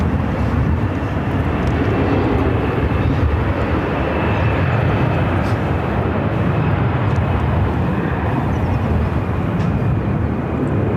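A Southwest Airlines Boeing 737-700 jet arriving from San Antonio at Phoenix fills the air with a loud, constant engine roar, broad and unbroken, with no voices over it.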